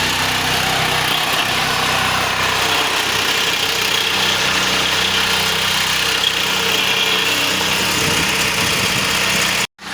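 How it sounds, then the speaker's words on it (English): A gasoline generator runs steadily at a constant idle-like drone, close and loud, with no talk, cutting off abruptly just before the end. "The generator has been running for up to like 5 minutes plus now."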